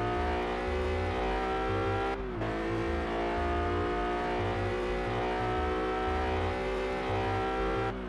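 A race car engine in the PS2 game Test Drive Unlimited revs steadily through a lap, with a brief drop like a gear change partway before the loud, close drone picks up again; no one talks.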